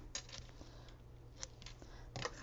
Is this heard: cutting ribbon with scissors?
yes